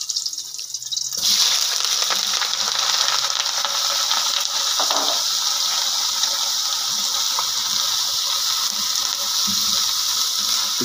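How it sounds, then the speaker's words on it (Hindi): Cauliflower pieces drop into hot oil and fry with a loud, continuous close-up sizzle and bubbling crackle that starts abruptly and holds steady throughout. "अभी इसके अंदर हमने गोभी डाल के फ्राई करना है।"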